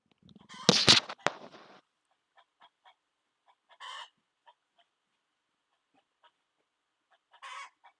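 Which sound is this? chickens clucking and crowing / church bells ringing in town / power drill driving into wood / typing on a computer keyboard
chickens clucking and crowing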